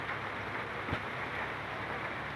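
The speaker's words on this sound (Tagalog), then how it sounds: "Umuulan dito." Steady rain hisses evenly throughout, a continuous wash of sound with no voices.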